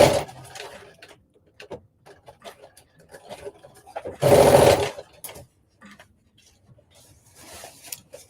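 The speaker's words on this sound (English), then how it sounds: "we're going to start at the hem of the skirt and stitch all the way up to the top of the pocket using 1/2 inch seam allowance" A sewing machine runs a skirt seam on a flare dress, hem up to the pocket top at a half-inch allowance, in one brief buzzing burst set among quiet handling noises.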